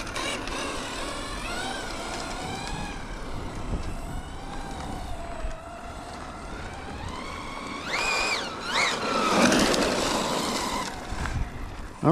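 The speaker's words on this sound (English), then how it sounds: "Driving the Team Corelli Shiroi." A Team Corally Shiroi RC truck, its motor fitted with a KC-RC heatsink, drives over short grass. A steady electric whine rises and falls in pitch over a rough, rattling mechanical drone, close and continuous throughout.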